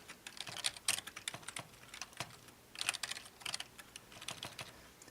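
Code is typed on a computer keyboard in bursts of quick, light key clicks, fairly quiet and close, with short pauses between runs of keystrokes and no talking.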